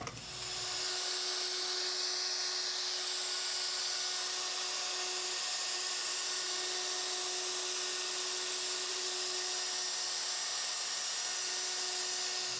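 A high, steady whine of a power router rounding over the edge of a pine tabletop, sustained and loud throughout with a constant pitch, no voices.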